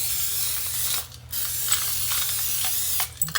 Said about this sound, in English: I'm going to spray it with some olive oil spray. Going all around the edges.